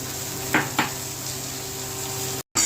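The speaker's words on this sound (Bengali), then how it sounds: "এক এক করে এই মাছগুলো ভাজবো" Fish fries in a pan for lunch, a soft, steady sizzle with two brief utensil clicks early on and a short dropout near the end.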